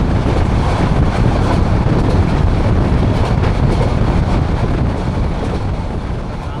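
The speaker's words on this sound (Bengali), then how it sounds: "ধীরে ধীরে ট্রেনটি গতি বাড়াতে শুরু করলো" A train pulling out of Cox's Bazar station on the run to Dhaka, picking up speed as a steady, loud rumble that fills the whole stretch, with wind buffeting across it.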